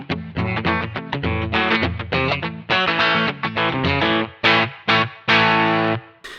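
Electric guitar played through the Sunrise amp setting of a Get Wired Studios Flip Flop pedal with light reverb, a run of picked chords and notes, some ringing briefly before stopping.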